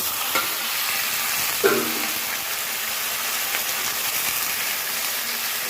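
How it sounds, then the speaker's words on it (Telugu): Washed mutton drops into browned onions frying in a pan, setting off a loud, steady hiss of sizzling oil that runs throughout, with a soft thud as the meat lands near the start. "ఇందులోకి ఇప్పుడు మనం కడిగి పెట్టుకున్నటువంటి మటన్ వేసుకోవాలండి."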